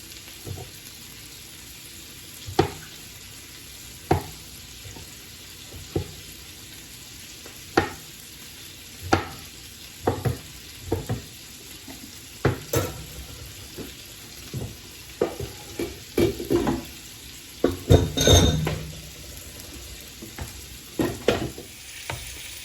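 A spoon stirring mushroom pasta sauce that sizzles in a pan, the scrapes and clacks coming in irregular bursts over a constant low frying hiss. No one speaks.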